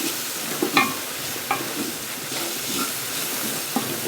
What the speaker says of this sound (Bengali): ডালটাকে খুব ভালো করে ভেজে নেব।